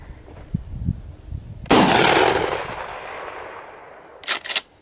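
A 12 gauge shotgun fires one loud, close blast with a long decaying roar, followed moments later by a short pair of sharp cracks or clanks.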